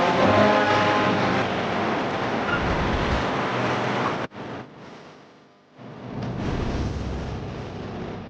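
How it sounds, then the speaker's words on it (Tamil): Sea waves washing on the Tiruchendur shore, a broad continuous roar of surf that drops out briefly midway before the rushing wash returns, moderately loud with no voices. "மீண்டும் ஆட்டத்தை தொடங்கிய செந்தூர் கடல்."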